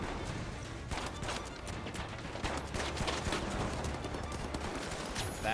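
Gunshots in The Finals during a ranked tournament match, heard as dense repeated automatic bursts with sharp cracks and no pause, loud and close.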